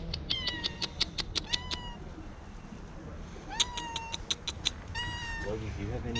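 A stray one-eyed cat meows repeatedly on a street near the Wailing Wall in Jerusalem, a run of clear, close cries, a pause, then another burst, with outdoor background noise beneath.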